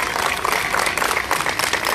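An audience at a traditional posada in Huajuapan de León, Oaxaca, applauds the band of San Miguel Amatitlán with dense, loud, sustained clapping filling the whole short stretch.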